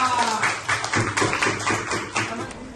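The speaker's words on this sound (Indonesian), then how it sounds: "Kasih tepuk tangan dong" Students in a classroom give a short round of scattered hand claps, uneven and fairly close, with a teacher's voice speaking over and between them.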